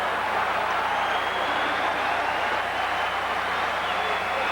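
A packed arena crowd at a UCLA vs USC college basketball game keeps up a steady, loud roar of cheering and noise from start to finish.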